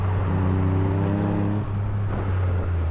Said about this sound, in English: Shift through those gears, man. You're driving a GR Yaris.